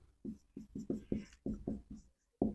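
Chalk or marker writing on a board during a physics lecture on Gauss's law, a series of close rhythmic strokes and taps with a brief pause before the last one, heard alone.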